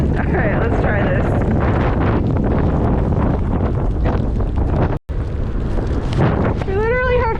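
Gale-force wind of over 30 kph roars across a beach at night during razor clamming, a loud, constant buffeting rush against the microphone that barely dips, with faint voices underneath.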